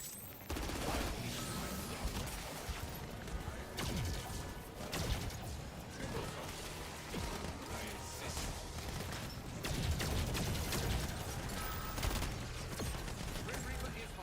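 A turret in Black Ops 7 Zombies on the Mars map fires continuously, a dense and loud stream of rapid gunfire mixed with mechanical clatter and impacts that runs without pause throughout.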